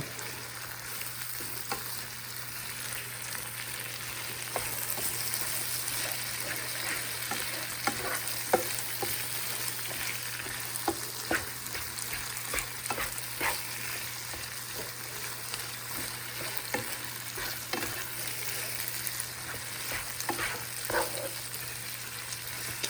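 A pot of chicken sauce piquante is stirred as onion powder and spices go in, with a steady close sizzle, frequent spoon scrapes and knocks against the pot, and a low hum underneath.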